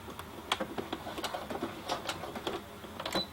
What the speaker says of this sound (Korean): 요 끝에부터 박음질을 시작하겠습니다.